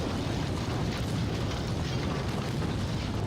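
A torpedo strikes a ship in Ultimate Admiral: Dreadnoughts, producing a sustained, heavy, rumbling explosion that fills the whole span at steady loudness without distinct separate blasts.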